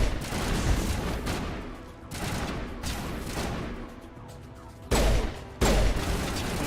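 Bursts of sustained gunfire in the video game Mass Effect Legendary Edition, rattling in long volleys with brief lulls and two sharp, loud booming hits near the end; no speech.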